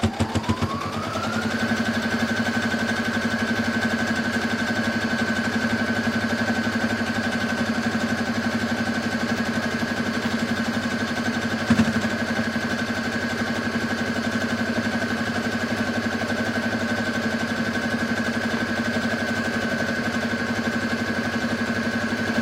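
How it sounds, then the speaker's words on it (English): A sewing machine backstitches over an apron seam. Its motor winds up in the first moments, then runs as a steady whirring hum, close and continuous, with one brief knock near the middle. "Backstitch a little bit over that where it meets the apron, just to make sure."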